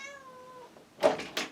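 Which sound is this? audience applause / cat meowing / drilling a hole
cat meowing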